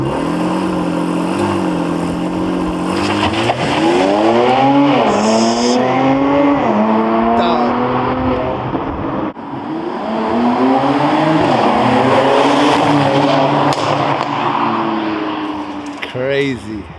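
A Mercedes C43 engine revs and accelerates hard through rising and falling gear sweeps on London streets, loud and close, with people talking and shouting over it.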